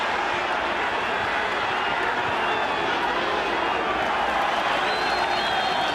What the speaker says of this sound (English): Fransman gets a round of applause though from the home fans